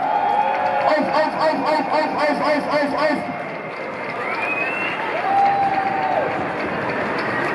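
Spectators at a Tübingen street parade clap and cheer around a passing group, a steady crowd roar with scattered claps and whistles under nearby speech and music.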